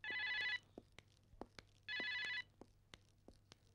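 A telephone in an office rings in two long electronic bursts, each about half a second, separated by a pause with faint scattered knocks and shuffling in the background.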